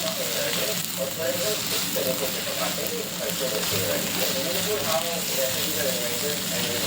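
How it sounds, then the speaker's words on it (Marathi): Chopped ginger, garlic and chilli sizzle and fry in a pan with browning onion, making a continuous close crackling hiss with faint stirring throughout. "आलं, लसूण आणि मिरची यांचं चॉप केलेलं किंवा ठेचा ते टाकायचा। चांगलं परतून घ्यायचं।"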